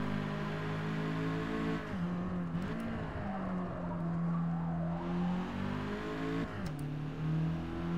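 An Alfa Romeo 4C lapping the Nürburgring circuit while understeering, its engine droning steadily from inside the car and rising and falling in pitch as the throttle eases and reopens.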